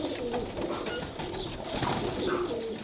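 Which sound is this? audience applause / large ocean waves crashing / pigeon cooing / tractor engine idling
pigeon cooing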